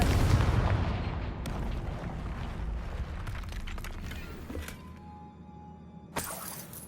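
Confringo fire spell exploding in Hogwarts Legacy, a loud opening blast that decays into crumbling, shattering debris and scattered clatters, followed by a sharp fresh crack near the end.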